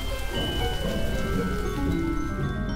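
Cartoon rain pours steadily, a dense, even hiss of drops on surfaces that stays loud and constant throughout, with no voices.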